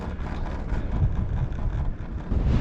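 Strong wind at a snowy mountain top in low visibility, a loud, continuous rumbling roar buffeting the microphone with deep, heavy gusts throughout.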